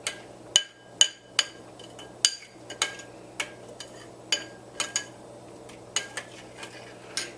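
A spoon clinks against a bowl while cumin powder is stirred into an onion and yogurt raita, sharp metallic taps recurring irregularly about a dozen times over a soft background, close and moderately loud.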